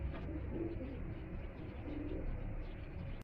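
A pigeon, a female held in hand among a fancier's flock in Lahore, gives soft low cooing, close and steady over a faint rumbling background.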